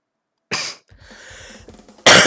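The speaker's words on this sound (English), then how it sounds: "Sorry for the coughing, but I have not fully recovered from COVID yet" A person still recovering from COVID coughs sharply, followed by raspy throat clearing and breathy noises, then a second loud cough at the end, close and alone without speech.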